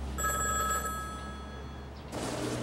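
A telephone rings in a shoe-shine stall run by a veteran shoeshiner in Gwangju, Korea, a steady electronic trill repeating for about two seconds, then cut off by a burst of broadband noise as it is answered.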